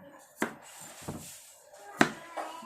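A kitchen knife chopping bitter melon for stuffed bitter melon with pork and glass noodles: a few sharp, spaced cuts against a board, close and moderately quiet, with light handling noise between them.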